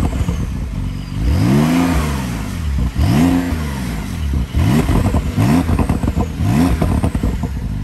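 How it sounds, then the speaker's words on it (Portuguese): A Porsche 911 Turbo S (992) on its stock exhaust revs hard several times in a row, each loud blip rising and falling in pitch, close by with no talking. "Falam que Porsche não tem ronco da hora, mas é o famoso Fuscão com ronco animal"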